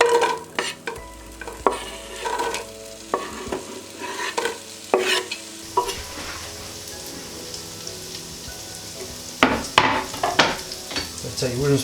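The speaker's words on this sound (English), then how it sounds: "you can put both the onion and garlic straight into the pot and start frying straight away." Onion and garlic fry in oil in a soup pot, giving a soft sizzle broken by clattering stirs and scrapes from a wooden spoon.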